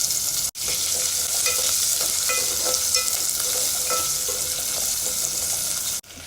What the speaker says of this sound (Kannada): ಈರುಳ್ಳಿ, ಮೆಣಸಿನ್ಕಾಯಿ ಇದಿಷ್ಟನ್ನು ಚೆನ್ನಾಗಿ ಫ್ರೈ ಮಾಡಿ.